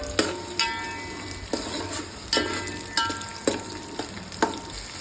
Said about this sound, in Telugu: కొత్తిమీర, పుదీనా వేసి వేయించుకోవాలి, దూరగా వేయించుకోవాలి.